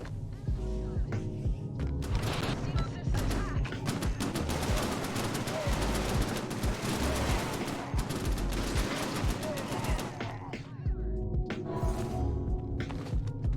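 Weapons fire in the space game Genesis Alpha One, a dense, continuous barrage of rapid shots and blasts layered over a droning background, steady and loud throughout with a brief lull near the end.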